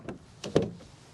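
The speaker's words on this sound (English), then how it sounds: "Once we open up the doors" Doors on a 2024 Chevy Trax and a 2024 Buick Envista open with a few quick, quiet latch clicks and a soft thunk, close by.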